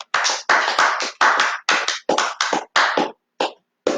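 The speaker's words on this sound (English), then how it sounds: "Give the Almighty hand clap" Rhythmic, unison hand clapping from a congregation at a Passover teaching gathering, a series of sharp, separated claps in short bursts with clear gaps, close and loud.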